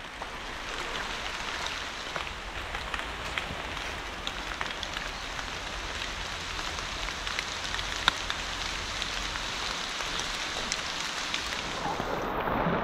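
Heavy rain falling at the foot of a trekking trail near the Khandoba temple in Badlapur, a steady, dense hiss of rain on surfaces that continues evenly throughout with no voices.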